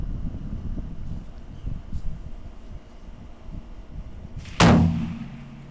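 A single sharp, loud rifle shot cracks out at a PRS precision rifle match in Walker County, a sudden blast with a short decaying tail following several seconds of low wind rumble outdoors.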